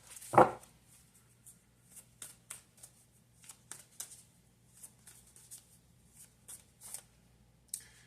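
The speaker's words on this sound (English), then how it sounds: "Let's see what other cards we get." Tarot cards being shuffled close by: one louder opening riffle, then a run of soft, irregular slides and taps that repeat every half second or so, with no talking.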